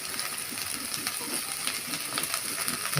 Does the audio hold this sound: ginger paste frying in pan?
yes